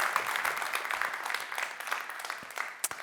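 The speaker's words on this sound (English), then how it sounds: "Ladies and gentlemen, give him a big round of applause" Applause from a seated audience at a centennial talks event, steady dense clapping at moderate level through most of the moment, with a couple of sharper claps near the end.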